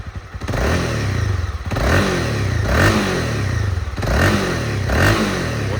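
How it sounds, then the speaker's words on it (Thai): A 2018 Honda CB300R motorcycle engine revved with the throttle in repeated blips, roughly four rising and falling surges over a few seconds, close and loud with no talking. "มา ดูผมบีบคันเร่งกันนะ"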